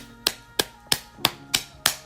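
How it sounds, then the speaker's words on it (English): Six sharp, evenly spaced slaps ring out close and loud at a steady rhythm, with quiet gaps between them. "Booty clapping sounds."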